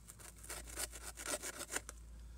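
A knife blade from an Emerson CQC7V clone saws through a thick rope in quick rough rasping strokes, close and fairly faint, with no voices.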